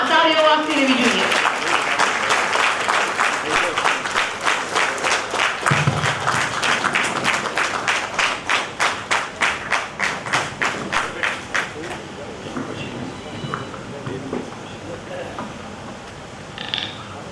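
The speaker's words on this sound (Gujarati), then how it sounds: "તાળીઓ વાગતી રહેવી જોઈએ" A stage audience applauds in welcome: broad, loud clapping at first, then it settles into steady rhythmic clapping in unison that fades away near the end.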